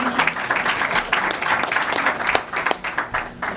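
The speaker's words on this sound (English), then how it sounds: "So you can give them a round of applause for that." Applause from a sizeable audience, a continuous wash of claps at moderate volume for a few seconds with no voices.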